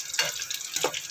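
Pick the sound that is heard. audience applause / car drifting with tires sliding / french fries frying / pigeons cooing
french fries frying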